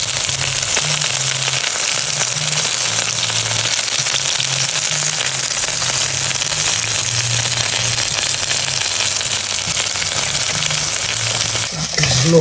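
Chicken pieces coated in corn flour fry in a pan for a curry, a steady loud dense sizzle and crackle running throughout with no talking over it.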